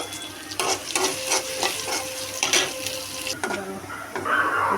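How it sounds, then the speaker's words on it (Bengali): Chopped onion and garlic frying in oil in a wok for lentil dal, a soft sizzle with bursts of stirring and scraping, close and moderately loud, no talk. "দেখো ডালের জন্য পেঁয়াজটা রসুনটা ভাজা ভাজা হয়ে গেছে"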